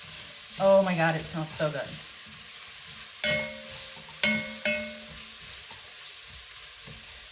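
Onions, garlic and vegetables cook in a pot as the base for an Irish pot roast, with a continuous sizzle and a few sharp scraping knocks of stirring. A voice speaks briefly near the start.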